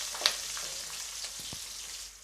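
Long-sliced onion fries in a pan for vermicelli upma, making a continuous close hiss with a sharp pop near the start and scattered soft crackles.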